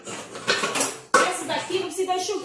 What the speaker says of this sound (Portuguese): Agora eu vou guardar as vasilhas aqui.